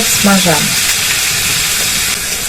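Chopped onion dropped into heated oil in a pan, giving a steady bright sizzle and hiss that continues throughout, with a brief spoken voice near the start.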